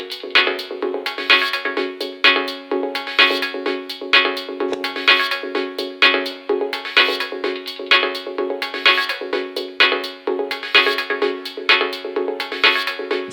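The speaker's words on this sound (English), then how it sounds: "turn up the feedback. Too much feedback, it'll sound a little crazy." Seven-note chord from an Octatrack vocoder patch with the feedback turned up, a metallic, bell-like stack of tones pulsing in a steady repeating rhythm, ringing and dense throughout.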